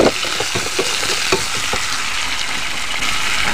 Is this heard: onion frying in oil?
yes